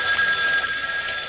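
A telephone bell rings continuously, a bright, steady metallic trill that is loud and close throughout the short moment, with no voices.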